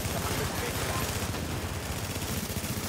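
Rapid, dense gunfire from a video game firefight, sustained bursts filling the whole stretch at steady loudness, with a voice talking underneath.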